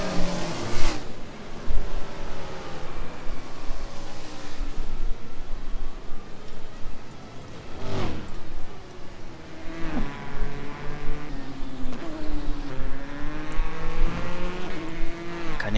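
Several cars drive and rev in the virtual world of Second Life during a Tokyo 24 Hours race event, engines rising and falling in pitch with passing whooshes, fairly loud and continuous with no talk.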